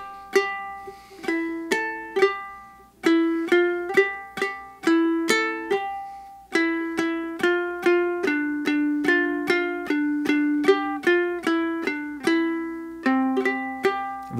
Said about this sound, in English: So our melody sounds like this. I'm just going to play it for you